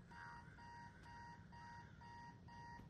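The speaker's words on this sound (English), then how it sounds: "How long has that been going off?" An alarm rings in the Spider-Man 2 video game, sounding as a steady repeating electronic beep in short even bursts, about two per second, throughout.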